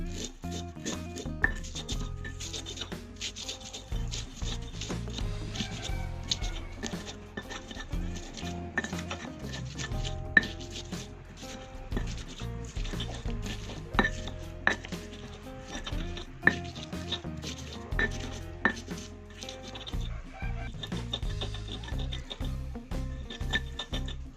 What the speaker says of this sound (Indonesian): Sekarang kita ulek.